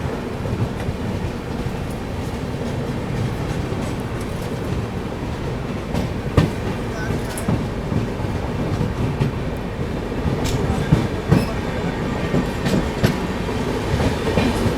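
Lichchavi Express passenger train pulling out of Fatehpur railway station, a steady rumbling roll with rhythmic clickety-clack of wheels over rail joints and occasional sharper metallic clanks, continuous and fairly close throughout.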